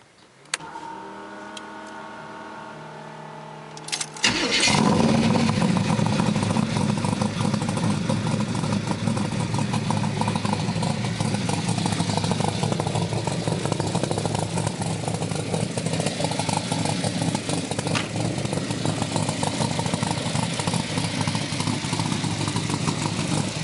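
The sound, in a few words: 1973 big block Corvette engine running through side pipes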